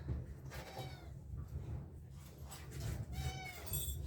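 A cat meowing several times in a garden, soft repeated meows spread across the moment, with faint background sounds and little talk.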